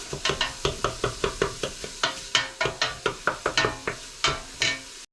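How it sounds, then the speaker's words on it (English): Spoon stirring corn into Maryland crab soup in a pot, a steady series of about twenty quick scraping, clinking strokes against the pot, close and moderately quiet, with no talk. "Now we have that in. Just stir that up a bit."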